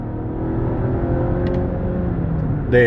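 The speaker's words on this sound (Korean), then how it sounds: "추월 가속을 쉽게 끌어낼 수 있는 걸 확인할 수가 있습니다" A Volvo V90 Cross Country B5 Ultra wagon accelerating hard, its engine giving a steady, fairly loud rising drone with no voices, ending in a brief higher whine.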